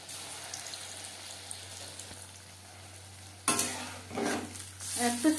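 Paneer pakora frying in hot oil over a medium flame: a low, quiet hum at first, then sudden bursts of loud sizzling and bubbling as battered pieces go into the oil.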